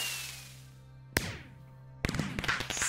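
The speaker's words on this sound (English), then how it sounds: "Fireworks in the face." Video-game fireworks burst close by, first a sharp crack followed by a descending whistle, then a dense crackling shower of pops, loud and without talk.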